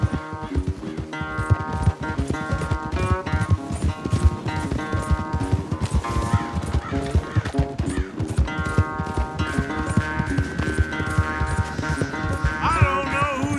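Horses galloping hard in a race in Red Dead Redemption 2, a fast, continuous drumming of hooves up close, layered under a busy orchestral music score.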